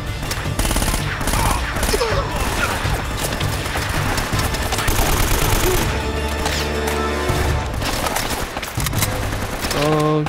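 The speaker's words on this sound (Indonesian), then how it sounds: "Dari kiri atas kayak ada musuh yang nembakin, tapi nggak kelihatan" Enemy gunfire in Uncharted: Drake's Fortune, a loud sustained fusillade of rapid shots and impacts that barely lets up, with someone talking over the battle noise.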